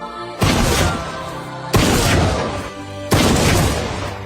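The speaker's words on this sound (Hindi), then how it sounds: "लगातार कई गोलियां चलने के साथ जमीन पर पड़े निक के पसीने छूट गए" A hunting rifle fires three loud, booming shots spaced about 1.3 seconds apart, each followed by a long decaying rumble, with no voices.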